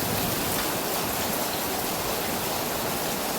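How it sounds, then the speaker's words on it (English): Steady, dense rain pours down outdoors in a backyard, a loud unbroken hiss that fills the whole stretch with no voices over it. "Stuck in the middle of the rain."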